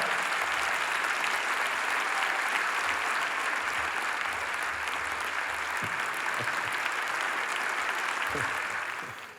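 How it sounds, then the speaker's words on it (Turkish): A large audience claps without pause at the 41st Istanbul Film Festival opening ceremony, a thick, even wash of applause that holds for several seconds before tapering off abruptly. "Kocaman alkışlarla, saygılarımızla."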